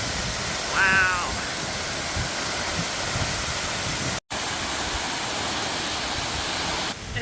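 Denny Cove Falls sends up a steady, broadband rush of falling water, constant and fairly close, with only a brief faint squeak early on and no one speaking.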